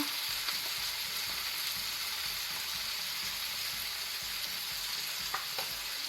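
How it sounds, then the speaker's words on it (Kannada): Tomatoes and coriander leaves fry for a prawn masala, a constant bright hiss of sizzling oil with faint, occasional stirring clinks underneath. "ಈಗ ಇದನ್ನು ಸಹ ಸರಿಯಾಗಿ ಫ್ರೈ ಮಾಡಬೇಕು."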